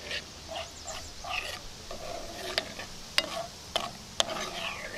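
Soft, quiet stirring of a thick sweet and sour sauce with onion, ginger and garlic in a pan, a faint low sizzle punctuated by a few distinct spoon clicks against the metal.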